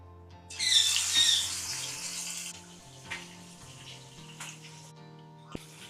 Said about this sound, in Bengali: এবার আমি এক এক করে মাছগুলো ভেজে নেব